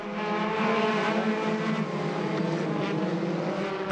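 Formula 4 race cars from the 2013 French championship roar past on track after a reversed-grid start, a loud continuous blend of high-revving engines that holds steady without any talk.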